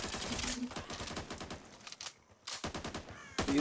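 A bot teammate fires its gun in the zombie shooter Back 4 Blood. It sounds as rapid, crackling bursts of automatic fire, close and loud, with a short pause in the middle before the shooting resumes.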